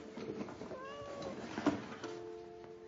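A cat meows several times, faint and fairly close, with short drawn-out cries amid quiet room noise and no talking.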